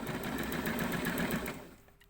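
Domestic sewing machine running steadily as it stitches along a fabric camisole neckline, a close, continuous motor whir with rapid needle pulsing for about a second and a half before slowing and stopping.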